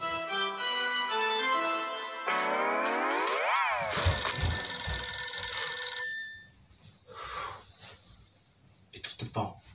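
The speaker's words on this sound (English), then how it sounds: "It's the phone." A telephone rings in a Blue's Clues game set in a haunted house, a bright repeating electronic trill that bends and warbles for several seconds before cartoon voices and effects take over.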